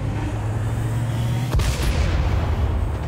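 Cannon fire in XCOM 2 during the defence of the Avenger ship: a single heavy boom cuts through a low droning hum, followed by a rumbling tail under the continuing game ambience.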